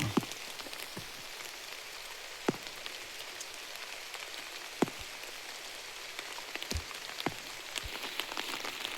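Steady rain falling on a surface, with scattered sharper drips landing close by over a soft continuous patter.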